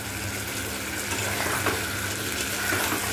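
Potatoes fry in hot oil in a wok with five-spice seeds, giving a soft, continuous sizzle and crackle at a moderate, even level.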